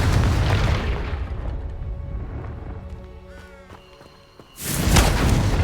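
A Confringo fire spell in Hogwarts Legacy bursts with loud, boomy explosions, a heavy blast that fades to a quiet moment, then a second sharp blast near the end.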